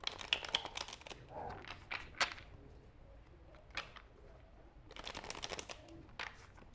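A deck of tarot cards is shuffled in two short bursts of riffling and flicking. The sound is close and fairly quiet, with soft, crisp snaps and a quiet gap in the middle.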